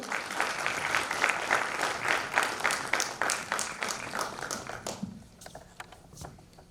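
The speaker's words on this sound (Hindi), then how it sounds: "चलिए पटेल जी का स्वागत किया जाए तालियों से" A seminar audience claps to welcome a participant called up on stage: dense, loud clapping that thins out and fades near the end.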